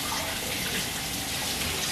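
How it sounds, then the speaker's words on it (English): Tap water running steadily to rinse cooked pasta with cold water, a continuous loud splashing hiss with no talking. "you rinse it out with cold water"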